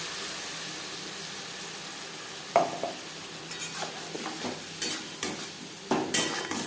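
Onions fry in a pan for homemade chicken egg chow mein, a faint, low sizzle with occasional sharp stirring clinks and scrapes spaced a second or so apart, quiet and without any talking.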